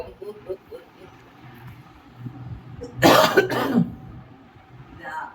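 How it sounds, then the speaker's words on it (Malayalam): A short burst of coughing, a couple of harsh coughs close together, rising over low murmuring background noise and faint voices. "ചുമയാ"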